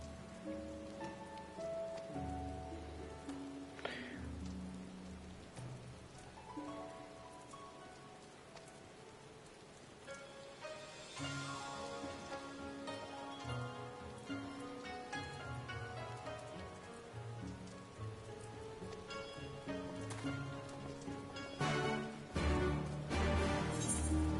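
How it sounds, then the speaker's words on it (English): Heavy in-game rain from Final Fantasy XIV: Stormblood patters steadily beneath the game's music, soft and continuous throughout. "Just pouring down rain."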